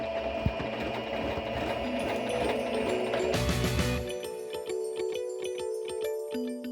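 A sewing machine back stitches denim with black thread while a pair of jeans is turned into a skirt: a steady close mechanical whir that shifts, then breaks into rapid separate stitch ticks.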